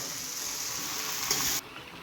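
Vegetable curry masala sizzles steadily in a pan, a close, even frying hiss that cuts off abruptly near the end.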